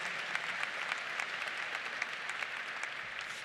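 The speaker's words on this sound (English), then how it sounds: "Give your faculty and staff a round of applause for teaching you to walk with confidence." A commencement crowd applauds faculty and staff in a steady, dense wash of clapping that holds at an even level for the whole stretch.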